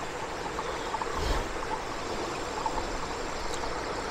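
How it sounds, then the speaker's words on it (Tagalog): A loud river rushing steadily nearby, a continuous broad wash of flowing water with no pauses, heard alone without any voices. "So, sobrang ingay ng ilog."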